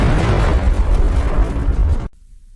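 A heavy explosion roars in a film scene, a thick, rumbling blast with deep low end that churns for about two seconds and then cuts off abruptly into near silence.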